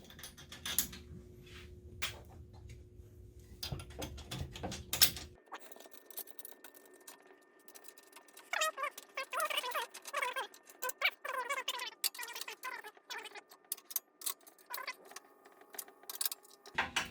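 An axle, lock washers and a nut go back onto a DeWalt tool stand being fitted with wheels. Faint, irregular metallic clicks, ticks and rattles come from close by, with a low hum in the first few seconds.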